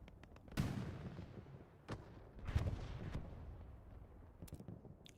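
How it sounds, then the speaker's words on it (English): Tank battle gunfire in the video game Hell Let Loose on the Carentan map, with several sharp cannon and gun blasts at irregular intervals, each trailing off in rumbling echoes over a low background. "Already have a tank battle going on here."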